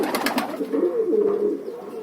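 A Kaldooma pigeon coos close by in a soft, low, rolling call, preceded by a few quick wing or shuffling sounds.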